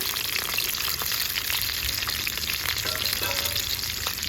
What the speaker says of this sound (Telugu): సరిపడా నూనె వేసేసుకొని మనకి సిమ్లోనే పెట్టి ఇవి దోరగా వేయించుకోవాలండి